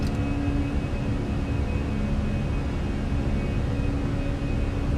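Fenix A320 airliner jet engines spooling at climb thrust in Microsoft Flight Simulator, a loud, steady broadband roar with a low rumble and faint tonal whine holding constant throughout.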